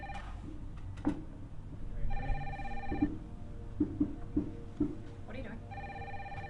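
A telephone rings in repeated electronic bursts, a short dramatic exchange playing over it, with people speaking in the scene between and across the rings.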